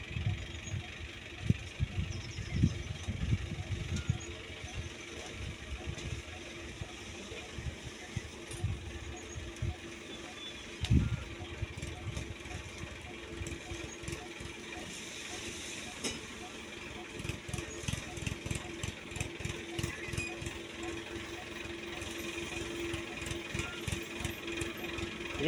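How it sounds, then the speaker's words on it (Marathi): A tractor arrives at a soybean field, its engine a low, uneven rumble with chugging pulses heard at a distance beneath frequent talk. "ट्रॅक्टर आले बघा आता।"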